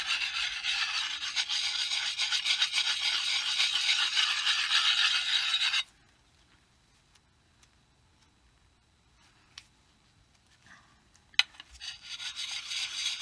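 A coarse sharpening stone rubbed along an axe edge, giving a steady, close gritty rasping for about six seconds, followed by quiet with a few faint clicks and a sharp tap.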